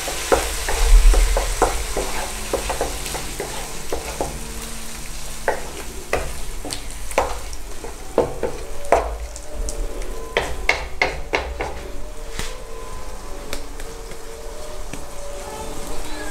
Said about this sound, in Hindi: अब हम इसमें हाफ़ कप दही डालेंगे। इसको अच्छे से मिक्स करेंगे।